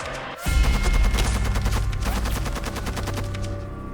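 Battlefield artillery and gunfire in a Second World War setting erupt suddenly into a loud, dense barrage of rapid shots and booming blasts that rolls on steadily without a pause.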